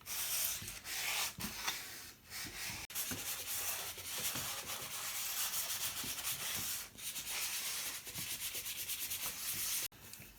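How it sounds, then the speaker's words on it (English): Light sanding over the top of a wooden letter gives rhythmic, close, raspy strokes, short scrubbing passes repeated with brief pauses between them. "And now we're going to lightly sand the top."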